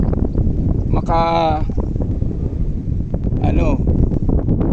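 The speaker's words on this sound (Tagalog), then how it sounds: "malakas yung hangin" Strong wind buffets the microphone on Turtle Island with continuous rumbling noise, while a voice talks briefly through it.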